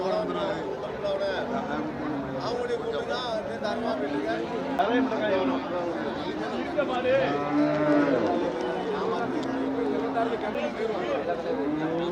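Native cattle and draught bullocks moo repeatedly at the busy Melapalayam cattle market. Their low calls rise and fall over constant crowd chatter and nearby voices.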